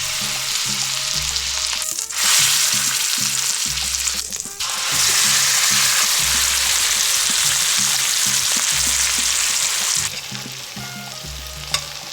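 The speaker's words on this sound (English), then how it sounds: "our little skillet with the steak and the peppers and the onions and the spices" Steak, peppers, onions and spices sizzle loudly in a skillet on a hot plate, a steady bright frying hiss broken by brief dips and stirring scrapes, with a low rhythmic hum underneath and no talking.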